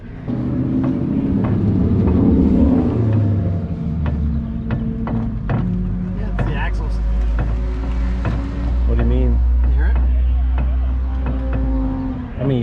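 A 1967 Ford Mustang road race car drives on track at Buttonwillow with a slipping clutch and a noisy rear end, producing a loud steady low drone and mechanical whine from inside the car, while people talk over it.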